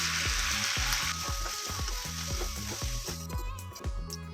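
Chili, turmeric and coriander powders fry for beef rezala as a steady close sizzle, with a rhythmic repeated thumping pulse running underneath throughout.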